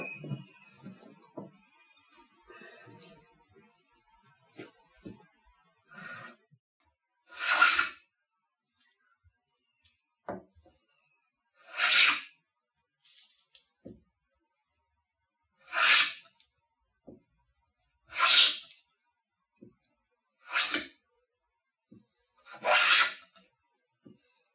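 A restored hand plane shaves seasoned pine in about six separate rasping strokes, each a short scraping burst, with quiet handling noises and small knocks between them.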